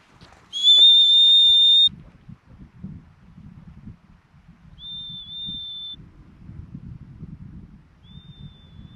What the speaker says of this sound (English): you have a little whistle that you can blow into, and this thing is actually surprisingly loud